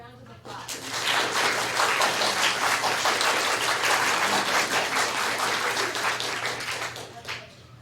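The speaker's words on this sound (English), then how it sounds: "Let's give them all a round of applause." A large audience at an elementary school district speech contest breaks into loud, sustained applause for the student speakers, rising quickly and holding steady like heavy rain before fading near the end.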